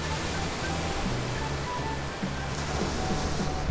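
Small river flowing toward the ocean, a steady broadband rush of running water heard close and continuous with no voices over it.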